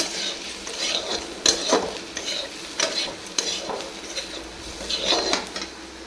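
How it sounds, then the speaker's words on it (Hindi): Turmeric powder and salt being mixed in a pan, with repeated scraping and clinking of a utensil against metal, a light sizzle underneath, and irregular stirring strokes at close range. "हलदी पाउडर स्वाद अनुसार लुण ये भलसे मिक्स करनवा।"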